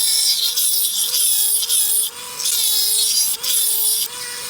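A tungsten carbide bit drills a hole through a hardened steel knife blade, a loud grinding whine with a steady tonal hum, broken by brief pauses and shifts as pressure changes.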